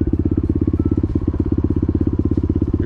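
A dirt bike on a trail, its single-cylinder engine giving a loud, rapid, even putter of exhaust pulses close by, with a brief dip in the middle, and no one talking.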